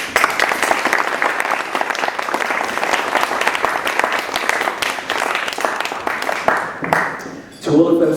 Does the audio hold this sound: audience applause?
yes